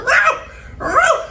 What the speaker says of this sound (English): if you hear a little barking in the background